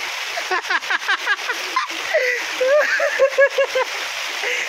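A sudden heavy downpour in rural Kokan keeps up a continuous loud rush and splatter of falling water, while several people talk and shout over it.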